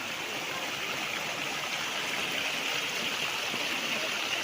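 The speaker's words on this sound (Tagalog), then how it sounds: "At meron itong mga bukal mismo sa property." Natural spring water flows on a farm lot in Lucban, Quezon, making a steady, dense rushing wash that stays even throughout with no breaks and no voices.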